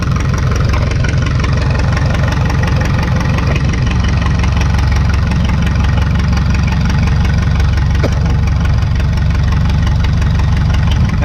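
A 1952 McCormick Super WD-6 tractor engine idles on gasoline through an idle-only carburetor, producing a loud, close, steady low chugging with a rapid, even knock that continues throughout, with no voices.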